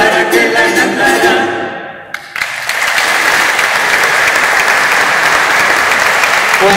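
Loud applause for a chamber choir at a laboratory's 50th anniversary celebration. Music fades out and is followed by a brief gap, then dense clapping from a large audience swells in and holds steadily.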